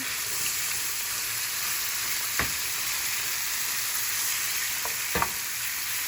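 Beef stew meat frying in oil in a pan, a constant close sizzle with a couple of sharp stirring clicks.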